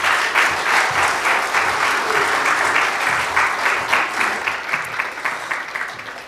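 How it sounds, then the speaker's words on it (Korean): A Korean church congregation claps in welcome as the pastor comes forward, a loud, close burst of applause with a rhythmic pulse that gradually softens and breaks up toward the end. "우리 목사님 나오실 때 환영하는 마음으로 같이 박수하겠습니다."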